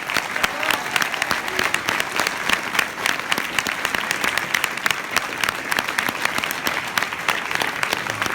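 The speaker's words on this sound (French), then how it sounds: "je vous remercie de l'applaudir plus que tout autre, mon ami Roland Berthora" A large audience applauding steadily, dense clapping that fills the whole stretch without pause, loud and close.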